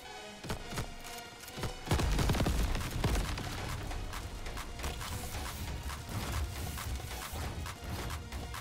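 Explosions and rapid weapon fire in the video game Crab Champions, a dense burst of booming impacts and crackling hits that swells and keeps pounding throughout, loud with no speech.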